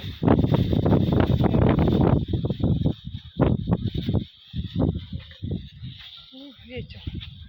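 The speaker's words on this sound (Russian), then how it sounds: "ветер." Strong gusts buffet an outdoor microphone in a spring evening breeze, a loud continuous rumble that swells and drops in bursts, with someone talking over and between the blasts.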